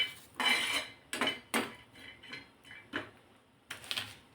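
Coconut pieces tossed and roasted in a dry pan for a spicy village-style katachi amti masala, heard as a series of metallic scrapes and clanks from a spatula, close and clear, with no talking.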